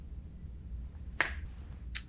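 Two crisp finger snaps ring out, the first sharper and louder, the second softer about three-quarters of a second later, against a quiet background.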